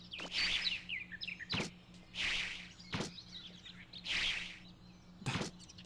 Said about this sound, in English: I scared that bird.